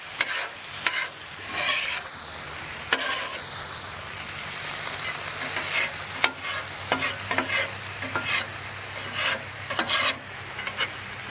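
Beef and vegetables stir-frying on a flat-top griddle, a steady sizzle broken by repeated scraping and tossing strokes of a spatula, close and fairly loud without talk.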